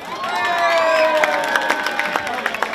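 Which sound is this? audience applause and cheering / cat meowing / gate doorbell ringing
audience applause and cheering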